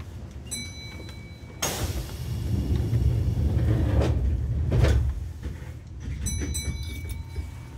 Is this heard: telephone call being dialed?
no